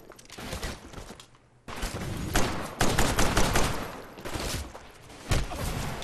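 Rapid automatic gunfire from the video game Titanfall rattles in dense, loud bursts, briefly pausing before resuming in sustained volleys.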